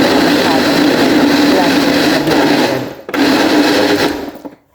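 A kitchen blender whirs loudly while mixing vegan maja blanca ingredients with condensed milk, running steadily, cutting out briefly, restarting in a short burst, then winding down to silence.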